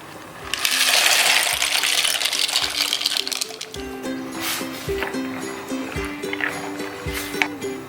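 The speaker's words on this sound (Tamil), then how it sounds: "இப்போ நம்ம எடுத்து வச்சுருக்க மக்ரோனி சேர்த்துடலாங்க" Dry macaroni pours with a rattling clatter into a pot of boiling water, followed by bubbling and gentle light knocks.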